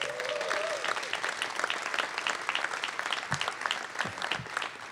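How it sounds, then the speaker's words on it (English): Audience clapping at San Diego's Pride kickoff event, a steady, dense round of applause throughout, fairly distant and moderately quiet. "Let's give them another round of applause"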